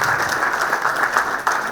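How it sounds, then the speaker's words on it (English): Dense, continuous clapping from a crowd, a brief stretch of steady applause with no voices standing out. "a huge round of applause for the gentleman"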